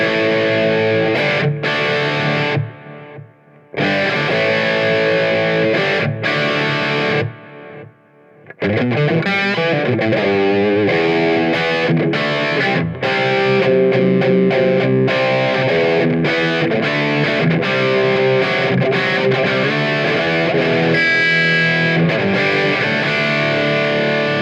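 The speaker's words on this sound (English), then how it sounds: "So as you can hear, it's got a really nice delay." Electric guitar run through a Strymon Brigadier delay pedal with modulation, driven chords and single notes trailed by repeating echoes and a slight wavering shimmer, loud and continuous apart from two brief pauses.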